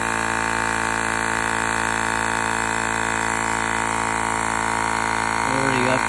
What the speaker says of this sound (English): You can see on the gauge of the air pump and on the TBR that she's charging up.